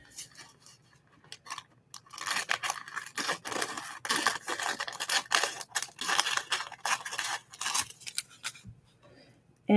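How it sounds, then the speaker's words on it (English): Scissors snip through material being trimmed and wrapped around a mitered edge for a mixed media art piece, a run of close, crisp cuts and rustles filling the middle of the span, with quieter handling before and after. "I'm just going to cut there so that I can wrap it"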